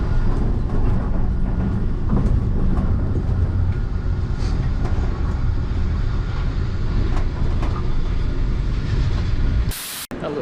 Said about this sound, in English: That little SkyTrain thing's pretty cool. It just sort of hangs from the rail above it rather than sitting on one below.